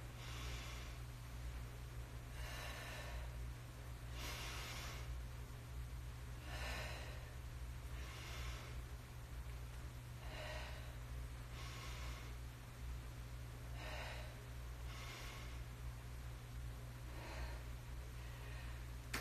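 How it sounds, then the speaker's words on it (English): Slow, deep breaths drawn in through the nose during a post-workout cooldown, about ten long airy inhales and exhales in a steady rhythm, close and soft, with no talking. "You can take some deep breaths in your nose."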